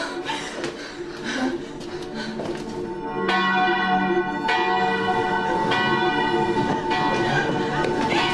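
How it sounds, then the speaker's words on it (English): A bell rings over and over in clanging strokes, loud and close, ringing on steadily for several seconds. "She won't stop ringing the bell."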